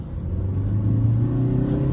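Maruti Suzuki Ertiga 2012 diesel with a 1200 cc engine, revving above 2000 RPM: a steady, loud engine drone climbing slightly in pitch as it pulls, heard close and alone with no talk.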